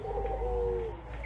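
Doves at a bird farm keeping perkutut, puter and derkuku coo in a short, soft, rolling call, close and clear over a low background hum.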